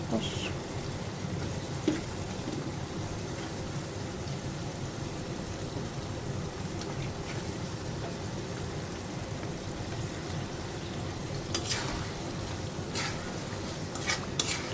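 Potatoes and swamp eel stirred into a sizzling spice paste in oil: a continuous low sizzle under scraping spoon strokes and occasional utensil clinks against the pan, close and moderately quiet, with no talking.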